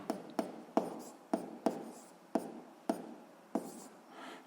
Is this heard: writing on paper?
yes